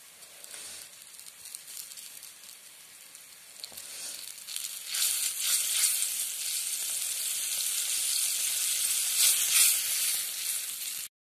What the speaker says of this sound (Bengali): 30 গ্রামের মতো বাটার, সেটাকে গলিয়ে নিচ্ছি।